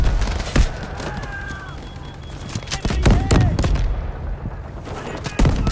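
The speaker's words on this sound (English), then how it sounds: "Artillery ready for barrage." Artillery barrage in the shooter game Delta Force: a dense run of booming impacts and gunfire bursts, loud and close, with heavy low rumble between the blasts and faint tonal radio chatter over the battle.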